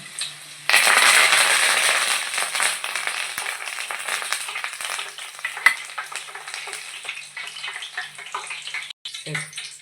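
Chicken pakodi with curry leaves frying in hot oil, a loud steady sizzle that bursts in suddenly and then settles into crackling, close up.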